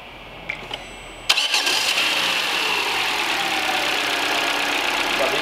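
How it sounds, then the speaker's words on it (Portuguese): Citroen New C3 1.5 car engine starting: a few faint clicks, then a sharp crank catching at once and settling into a steady, fairly loud idle hum. "A gente pode até ligar o carro para deixar vazar"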